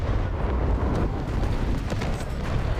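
Continuous thunderous firing from a Kronshtadt heavy battlecruiser's guns in War Thunder Mobile, a loud, dense roar of overlapping booms with no pause.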